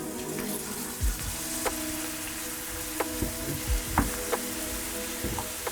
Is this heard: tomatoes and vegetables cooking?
yes